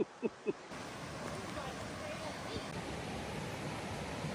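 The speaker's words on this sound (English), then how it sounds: "Hearing some fast waterfalls up here now." Fast waterfalls along a hiking trail give a steady, broadband rush that fills the background after a few brief knocks at the start, with the spray of water sounding moderately distant and continuous.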